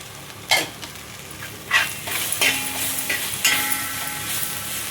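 Tomatoes with turmeric frying in oil in a pan for tomato rice, a steady sizzle broken by a few stirring scrapes, close and fairly loud.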